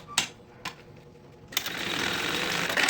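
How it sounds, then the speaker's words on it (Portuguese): Sewing machine stitching down the bow on a Brisa panel handbag, a steady whirring run that starts partway through after a few sharp clicks and taps near the machine. "E agora a gente vai, ó, passar uma costurinha aqui, pra prender tudo."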